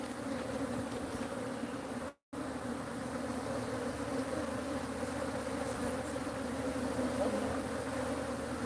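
Africanized honeybees swarm around a feral hive in the Arizona desert, a dense, steady buzzing drone that holds near and even throughout, with one brief dropout.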